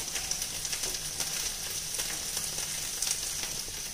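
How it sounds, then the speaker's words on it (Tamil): Okra sautéing in a pan on a stove gives a steady, close frying sizzle with light crackles and occasional stirring pops, no voices. "இப்போது ஒரு அடுப்பில் வெண்டைக்காயை நல்லா வதக்கிட்டு இருக்கோங்க"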